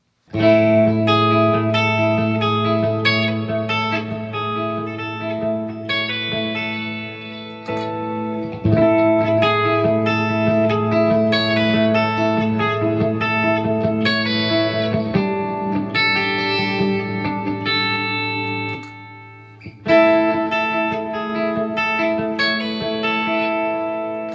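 Sustained electric guitar chords through a compressor pedal and reverb, ringing with a compressed, even level and a wide reverb tail, played alone without any voices.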